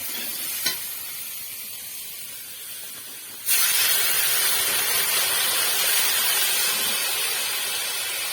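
Water splashes into a hot cooking pan of ripe Malabar spinach, setting off a loud, steady hiss that starts abruptly after a quieter sizzle and holds, broadband and close, to the end.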